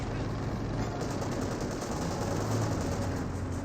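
Sustained gunfire in the World War II strategy game Company of Heroes 2, a steady rattling stream of shots near a Panther tank, loud and continuous with a low rumbling bed beneath.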